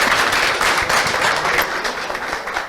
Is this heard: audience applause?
yes